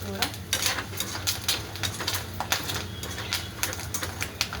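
Nylon poha chivda crackles and sizzles in a pan, with repeated sharp scraping bursts of stirring against the metal. The sounds are close and moderately loud, and a faint voice is heard at moments.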